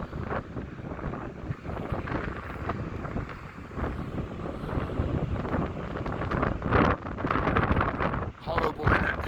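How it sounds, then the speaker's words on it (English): Strong wind on the North Shore seaside promenade at Blackpool buffets the microphone in loud, uneven gusts that swell toward the end, while someone talks throughout. "It's really windy once again, so apologies"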